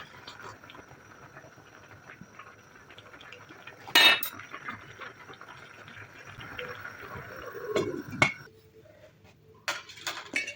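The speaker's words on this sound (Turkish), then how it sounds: "Fasulyelerimiz kaynadıktan sonra yaklaşık 3 su bardağı kadar suyunu ayıralım." Boiled beans' cooking water scooped with a glass: clinks of glass against a pot, a sharp knock, then splashing and soft clatter in a quiet kitchen, no talking.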